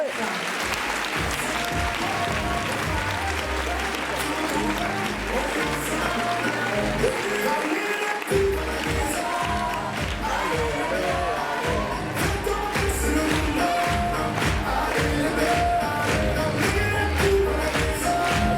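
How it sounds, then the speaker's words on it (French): A large audience at a Miss France regional pageant bursts into sustained, loud applause that continues steadily throughout, with scattered cheers mixed in. "je vais vous demander le même tonnerre d'applaudissements pour Annabelle Varane, Miss Picardie"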